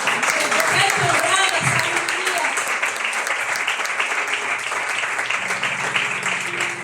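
Church congregation applauding during a Sunday service, a dense, continuous round of clapping that stays loud throughout, with voices and faint talk mixed underneath.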